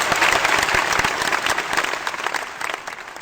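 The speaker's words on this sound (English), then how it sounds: "let's give these boys a round of applause before the competition begins" A round of applause for a group of boys before a classroom English quiz competition, many hands clapping in a lively, uneven patter that slowly thins out.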